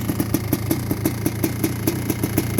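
A 1985 Kawasaki KX500 two-stroke motorcycle runs with its exhaust popping in rapid, evenly spaced loud bursts over a constant engine drone, close and without talk.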